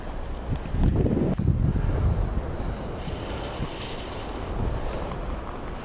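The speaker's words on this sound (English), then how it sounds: "It's quite sunny, just very windy" Strong offshore wind buffets the microphone on a sunny beach at Pakiri, a steady roar of gusts with heavy low rumbling, swelling around the first two seconds and then blowing on continuously with no voices.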